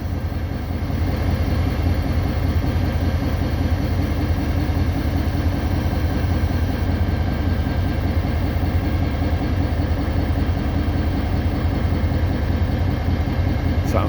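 Train locomotive engine idling at a rail yard near a hopper car load on a cold morning, a loud, steady low rumble with an even throb throughout.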